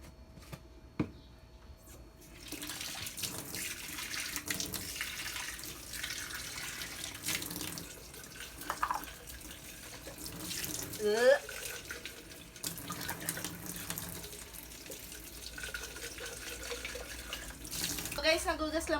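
Running tap water splashes over a bottle being washed in a sink before filling, a steady wash of water with brief clinks and handling sounds, a voice speaking at times over it.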